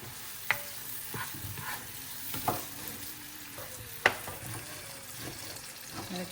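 A spatula scrapes and clacks in a frying pan a few times over a steady sizzle of cooking food.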